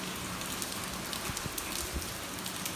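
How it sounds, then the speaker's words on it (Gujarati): Heavy rain falls in a dense, constant hiss, with scattered drops tapping nearby surfaces, loud and unbroken throughout. "ભાઈ શું વરસાદ આવ્યો હે હવાઈ ચાહે વરસાદ કેવો આવે છે"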